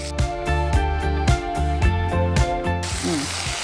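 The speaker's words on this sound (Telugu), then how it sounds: "సో ఇప్పుడు మనం పెసరపప్పు వేసేస్తాను. ఆల్రెడీ మనం నానబెట్టుకున్న పెసరపప్పు." Soaked moong dal hits a hot pan in a home kitchen and a burst of sizzling frying starts near the end, following rhythmic background music.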